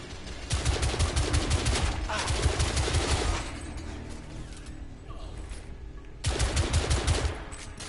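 Heavy automatic gunfire from a newly found gun in the video game The Order: 1886, loud and dense in two long bursts, the first sustained for about three seconds, a second burst later, with quieter combat noise between.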